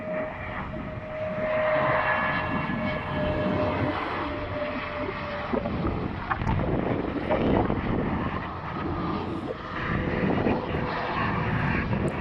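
A large jet airliner lands at night at a Greenland airport, its steady engine roar and rushing air filling the scene continuously and loudly from start to finish, with light wind buffeting the microphone and no talking.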